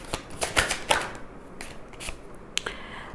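Tarot cards riffled and drawn from a deck, a quick series of close, crisp flicks and snaps with short pauses between them.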